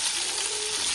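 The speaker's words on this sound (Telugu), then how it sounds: "ఇందులో ఆయిల్ వేసుకొని కొద్దిగా వేడి ఎక్కిన తర్వాత టమాటా ముక్కలు వేసేసుకోవాలి" Tomato pieces sizzle in hot oil in a pan, a dense, even frying hiss close up with no voices.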